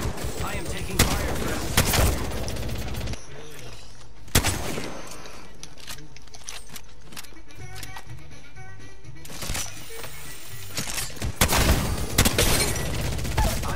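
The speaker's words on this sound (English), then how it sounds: "I am taking fire." Gunfire in the Apex Legends video game, repeated sharp volleys and bursts with gaps between them, loud and close, mixed with other game sounds.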